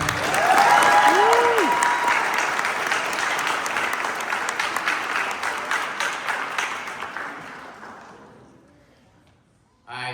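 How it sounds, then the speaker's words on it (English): A crowd at a volleyball awards event applauds loudly with dense clapping and a few whoops, then the applause gradually fades away to near silence before a voice starts again. "You guys can give a big round of applause for Coach Kelly Van."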